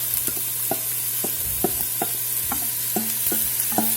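A medium yellow onion and peppers sizzle in hot oil while a utensil scrapes and stirs the pan in repeated, evenly spaced strokes, close and clear with no talking.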